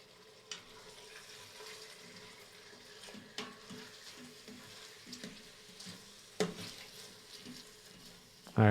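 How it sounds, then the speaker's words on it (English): Soft, steady sizzling of orange chicken frying in a pan, with occasional clinks and scrapes of a utensil, fairly quiet and close. "Sizzle, sizzle."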